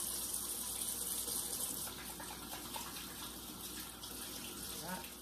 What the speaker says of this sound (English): wash your hands with warm water and some soap for about 20 seconds